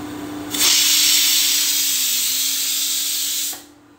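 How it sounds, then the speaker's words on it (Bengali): A pressure cooker with dal inside lets out one loud, continuous steam whistle, a hissing shriek that holds for about three seconds and then cuts off, close by in a kitchen. "ডালের মধ্যে সিটি করে যাচ্ছে"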